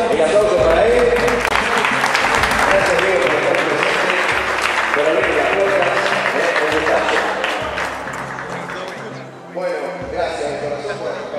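A crowd applauds loudly and continuously at a boxing clinic event, the clapping easing off toward the end before a short burst returns.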